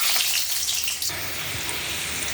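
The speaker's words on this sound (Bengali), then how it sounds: "আলুটা ভেজে নিই।" Potatoes frying in hot oil in a home kitchen, a dense, steady sizzle that hisses on its own from start to finish.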